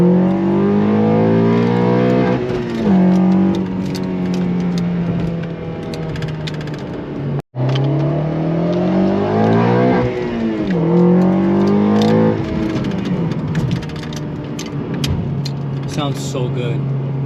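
A 9th-gen Honda Civic Si fitted with an Acuity cold air intake accelerates hard in first gear. The engine note rises in repeated sweeping revs and drops sharply at a shift. It is loud and close, with some talking underneath.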